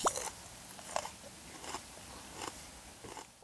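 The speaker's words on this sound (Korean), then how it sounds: "들리시죠? 이 아삭한 소리." Crisp, crunchy bites and chewing of fresh bok choy, a few distinct crunches spaced about a second apart, close to the mouth.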